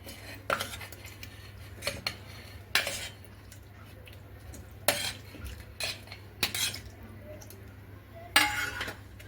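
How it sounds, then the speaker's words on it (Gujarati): Cut muskmelon pieces are spooned into a mixer jar for juice, with repeated sharp metal clinks and knocks of a spoon against the jar at irregular intervals over a quiet background. "હવે તેમાં આપણે સાકટેટીન જે કટિંગ કર્યું હતું તે આપણે બધું જ એડ કરી દઈશું અંદર"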